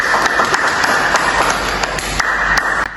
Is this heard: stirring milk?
no